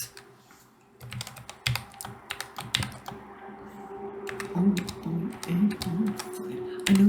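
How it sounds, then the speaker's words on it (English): Fingers type steadily on a computer keyboard at close range, with quick clicky keystrokes in bursts over a faint hum while Rust code is written. "you wouldn't listen to me typing"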